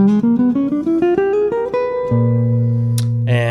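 Single guitar notes climb quickly up a diminished scale, one after another, then a final chord rings out and sustains.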